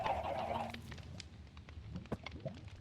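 Minecraft chickens on a chicken farm cluck in a few short, close, squawking bursts, followed by scattered clicks and small noises. No voices.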